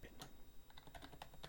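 Close computer keyboard typing, a short string of quick, crisp key clicks in uneven rhythm against a faint background hum, with no talking.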